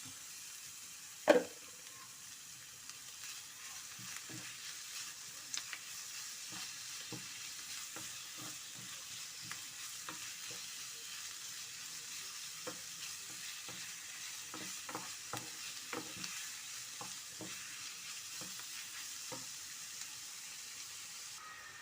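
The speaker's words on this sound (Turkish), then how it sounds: "Evet kıymalarımız da kavruldu." Minced meat fries with a constant hiss in a pan for eggplant moussaka, broken by scattered scrapes and taps of a utensil and one sharp knock near the start.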